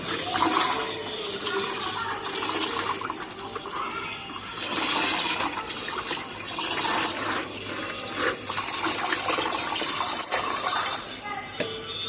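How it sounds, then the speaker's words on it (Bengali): Liquid drains and trickles steadily as rotting vegetable peels and fish scales are slowly pressed in homemade kitchen-waste compost, a continuous watery splashing that runs close and fairly loud throughout. "এভাবে ধীরে ধীরে চাপ প্রয়োগ করলেই দেখবেন এই যে সবজি পচা খোসাগুলো ডিমের পচা মাছের আঁশ থেকে প্রচুর পরিমাণে জল নিঃসৃত হবে"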